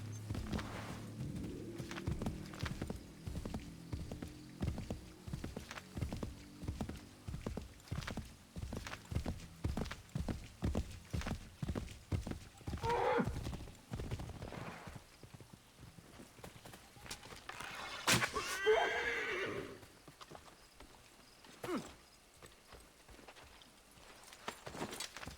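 In the PC game Assassin's Creed III, a horse's hooves clip-clop in a steady, fairly loud rhythm that slows and fades. Near the end comes a short, shrill neigh, and faint game ambience fills the background.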